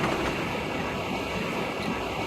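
An InterCity Express high-speed train in Train Simulator 2016 on the Hamburg to Hanover route, heading southbound, gives a steady, loud rolling rumble with soft rhythmic clatter of wheels on rails, continuous and without any voices.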